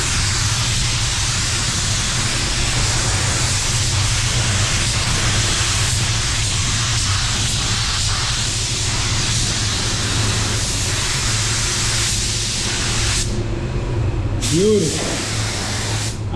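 Spray gun laying down a medium wet coat of paint at 30 psi, a steady loud broadband hiss running continuously throughout, with a low hum underneath and a brief pause near the end.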